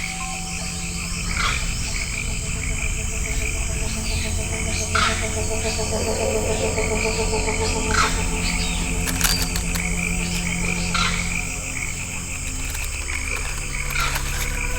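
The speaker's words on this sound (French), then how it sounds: "Elle détecte très vite le crapaud-feuille trahi par son goitre qui bat la chamade." A leaf toad croaks in a rainforest with repeated short calls, set among constant insect and frog chorus and the high buzz of crickets, steady and close throughout.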